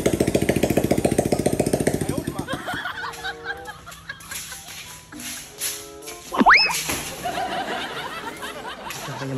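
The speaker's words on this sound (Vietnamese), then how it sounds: "Bây giờ mình nổ máy lên nha các bạn." A motorcycle engine fitted with a child's plastic potty as its exhaust chugs with rapid, loud pulsing for a few seconds, then dies away. Laughter and voices follow in the quieter remainder.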